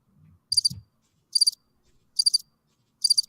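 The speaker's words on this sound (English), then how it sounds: "You got crickets?" Crickets chirp in four short bursts spaced roughly evenly, each a quick trilled pulse, fairly close and clear, with a brief low murmur before the first one.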